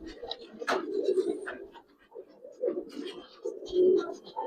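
Racer pigeons coo in soft, repeated low throaty bursts close by, with brief wingbeat flutters and rustles between calls and faint voices in the background.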